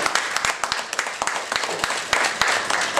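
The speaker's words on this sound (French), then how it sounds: "Donc je voulais d'abord qu'on puisse l'applaudir." Applause from a gathered audience at a community event, crowd clapping with some sharp individual claps standing out, moderately loud, with faint voices mixed in.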